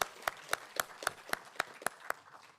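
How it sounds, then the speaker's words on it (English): A community audience claps for a historic-home preservation effort, short and fairly faint, about nine distinct claps spaced at an even rhythm, each one sharp and broadband with quiet gaps between them. "We can clap for that."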